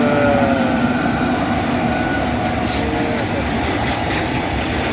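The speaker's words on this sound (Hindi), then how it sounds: "रेलगाड़ी छुक छुक छुक छुक छुक छुक छुक छुक" A train rolls past on railway tracks near a level crossing in Jamtara, a loud continuous rumble with rattling wagons and faint wheel squeals throughout.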